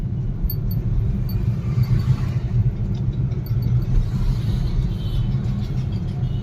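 A car cruising in third gear through moving city traffic, its engine giving a steady low rumble inside the cabin, with faint surrounding traffic noise and no talk.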